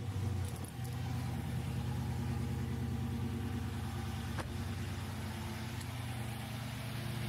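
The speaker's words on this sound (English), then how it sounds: "Let's go ahead and grab the keys and start it right up." A Hemi car engine starts and settles into a steady, even idle, close and continuous with a brief catch near the beginning.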